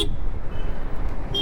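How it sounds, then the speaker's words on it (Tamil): A vehicle horn toots amid steady road traffic, heard from a motorbike on a delivery run in Kumbakonam, with constant engine and road rumble beneath a brief, sharp honk near the end. "ஹாரன் அடித்தாலும் நவர மாட்டீங்க"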